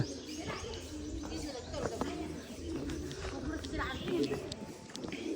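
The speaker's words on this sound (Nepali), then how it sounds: "परेवाहरू" Pigeons coo softly in the background on a morning walk in Darapani, with a few faint chirps. A person talks over the birds throughout.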